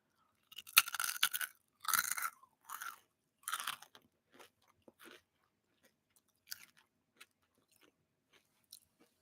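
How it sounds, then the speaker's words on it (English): Cheese puffs crunched between the teeth close to the mic, several loud crisp bites in quick bursts, then quieter, sparser chewing crackles trailing off. "Let's give it the crunch test."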